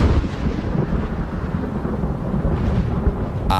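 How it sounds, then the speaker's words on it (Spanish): A thunderstorm in Ordesa National Park, Spain, a continuous deep rolling rumble of thunder with rain, loud and enveloping from start to finish. "donde registra, entre otros sonidos, una tormenta en Ordesa"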